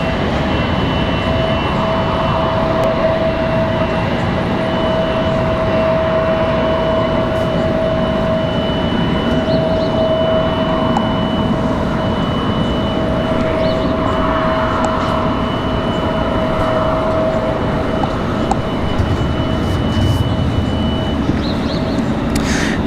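Turkish Airlines airliner turning at Washington Dulles International, a steady loud engine roar with a sustained whine running throughout, close and unbroken, with no talk.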